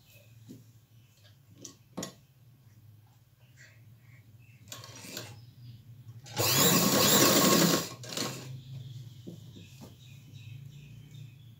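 A sewing machine stitches zigzag lace onto a dupatta, with a steady low motor hum throughout, short bursts of needle run, and one loud continuous stitching run in the middle before settling back to quiet whirring.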